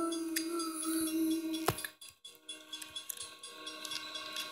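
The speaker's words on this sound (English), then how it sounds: "The train goes honk and a honk and a honk." A train passing with rail clatter and a sustained horn blast at a railroad crossing, the horn tone ringing steadily before fading into rumbling wheels and clinks, moderately distant.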